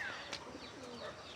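Pet pigeons coo softly in a home loft, low throaty rolling calls overlapping through the short stretch against a steady background hiss, fairly faint and with no voices.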